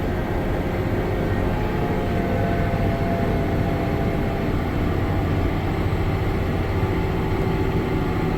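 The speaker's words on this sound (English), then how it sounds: "Rev it up here." A vehicle engine revs hard in fourth gear on a climb, with its wheels slipping, making a loud, steady broadband drone that holds unbroken for the whole stretch with no speech.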